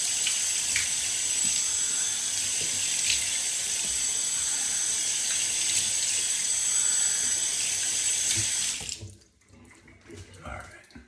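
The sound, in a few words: cold tap water running for a face wash at the sink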